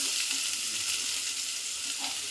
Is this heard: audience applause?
no